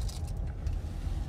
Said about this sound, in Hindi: अभी गाड़ी चल रहा है 40 के स्पीड में और घना कोहरा है सामने